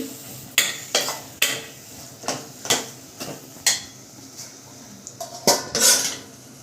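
A spoon scraping and knocking against a pot while onion and chana dal curry is stirred, a dozen or so clear metallic clinks in an uneven rhythm, close and fairly loud with a quiet background.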